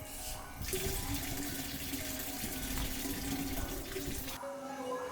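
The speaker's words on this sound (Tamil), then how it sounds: "இங்கே பாருங்கள், தண்ணி ஃபுல்லாகுது" Steady rushing water pours into a home water tank, loud and continuous, with a low electric pump motor hum underneath and a brief quieter stretch at the start.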